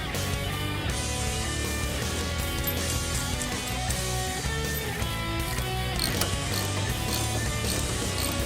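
A hand ratchet clicking rapidly and continuously as it tightens the inner tie rod nuts on a 1967–1970 Mustang's rack and pinion steering, a close, steady mechanical chatter with no pauses.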